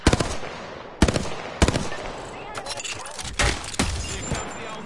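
Gunfire in the battle-royale shooter Apex Legends, with several sharp, loud bursts of shots spaced irregularly over a few seconds and quieter rattles and clatter in between.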